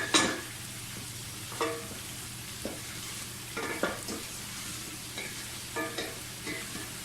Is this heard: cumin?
yes